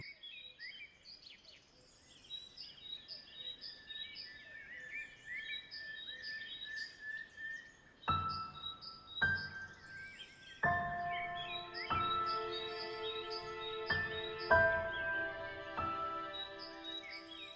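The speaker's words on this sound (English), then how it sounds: "The sound of birds and their sharp, high-pitched tweets interrupted Dane's sleep." Birds tweet and chirp repeatedly in sharp, high-pitched calls, quiet at first, then brighter bursts join in with layered tones over a soft background.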